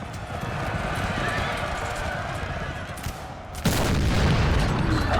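Cavalry horses galloping in a large Napoleon Total War battle, a steady roar of hooves and clatter with distant booms of gunfire, swelling louder near the end.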